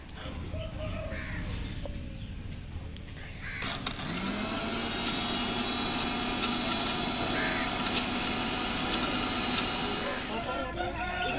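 Mixer grinder crushing tamarind, onion pieces and salt into chutney, a steady loud whirring hum starting abruptly and running continuously, with crows cawing nearby before it starts.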